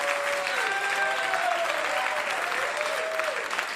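Steady audience applause at a stand-up comedy show fills the room, a dense sustained clatter of many hands clapping, with a few faint whistles and voices mixed in.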